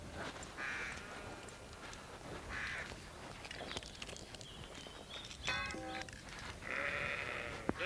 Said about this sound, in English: Farmer John Small introduces me to his flock